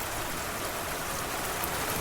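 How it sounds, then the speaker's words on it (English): Steady, dense rain pours during a night storm, a continuous hiss of falling water with no pauses or other sounds. "through the door as she unlocked and opened it just a crack. I'm so sorry to bother you at this hour,"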